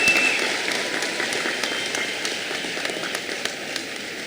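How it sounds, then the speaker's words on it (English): Graduation audience applause for students at the 2024 East Newton High School commencement, a steady, dense wash of clapping that holds evenly throughout, with scattered sharper claps poking out of the crowd. "Please give all of our students a round of applause on a job well done."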